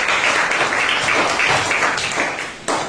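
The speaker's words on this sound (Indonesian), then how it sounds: "Berikan tepuk tangan." An audience at a teacher performance test session for an Indonesian Islamic university program applauds, a brief, full burst of many hands clapping that swells and dips, with a sharper surge near the end.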